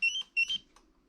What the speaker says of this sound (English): You can hear the relay clicking